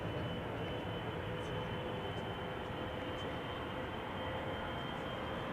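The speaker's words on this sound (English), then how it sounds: "BizJet coming this way." A business jet approaches at Schiphol, its engine noise a steady, loud, broad roar that holds evenly for the whole stretch, with no talk over it.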